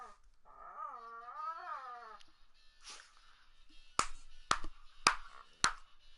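Dogs close by give a rising and falling whiny whimper, followed by several sharp clicks or snaps, over a quiet background.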